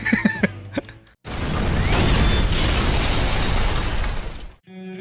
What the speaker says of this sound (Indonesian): tiba-tiba saja sepulang makan-makan, rumah Natalie dan tim meledak.